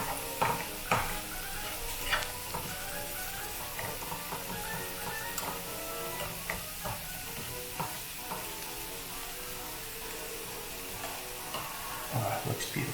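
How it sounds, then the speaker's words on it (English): Food sizzles steadily in a pan during Cuban sandwich cooking, with a spoon stirring and scraping in irregular clicks and knocks, close up and mostly without talk. "Give a little stir."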